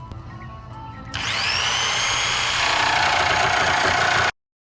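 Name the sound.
electric jigsaw cutting a gate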